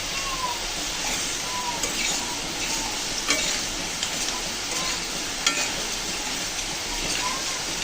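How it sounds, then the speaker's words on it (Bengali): Potatoes frying in a pan with chilli powder added, a steady moderate sizzle broken by a few stirring clinks and scrapes, with a voice speaking over it. "আলুগুলো তো সুন্দর লালচে করে ভেজে নিলাম"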